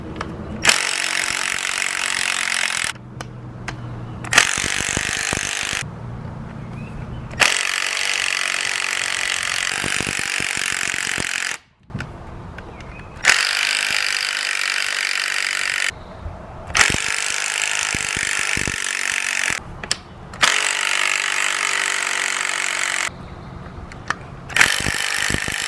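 Close, loud ratchet clicking as 5 mm hex bolts are loosened in a crisscross pattern on the clutch cover of a Yamaha FZ6R motorcycle, in repeated bursts separated by short pauses, with no speech.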